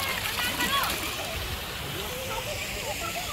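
Water splashing and rushing in a mountain stream during a summer family outing near Dehradun, a steady close wash of flowing water with voices talking over it.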